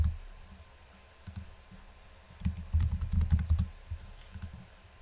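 Computer keyboard keys and mouse buttons clicked during CAD software work: scattered soft clicks early, then a dense burst of rapid taps in the middle, close and fairly quiet with no talking.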